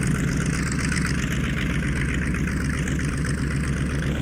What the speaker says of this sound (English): Engine temperatures are all within limit, so we can do our run-up.